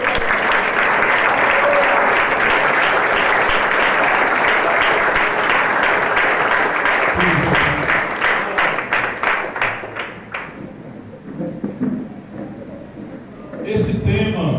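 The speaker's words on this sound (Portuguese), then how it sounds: "Aplauda o Senhor porque Ele é digno." A Pentecostal church congregation in rural Ceará, Brazil, claps loudly for the Lord at a church anniversary celebration, a dense roar of hands that turns into rhythmic, unison beats before fading out, with a brief burst of sound at the end.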